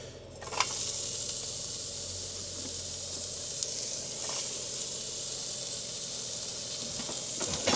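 Onions hit a hot pot at a rainy car-camping site and sizzle with a steady, close hiss, broken by a few light clinks.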